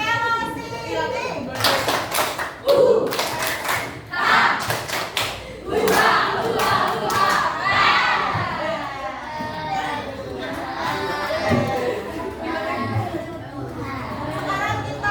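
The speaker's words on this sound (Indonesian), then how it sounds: "Tepuk semangat Velocity." A school class performs a rhythmic spirit-clap chant, with bursts of clapping and children's voices chanting together in time, followed by a stretch of group voices.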